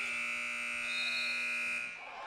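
A basketball game buzzer sounds at the end of a quarter in a JV boys high school game, one steady loud electronic tone held for nearly two seconds before cutting off into faint gym noise.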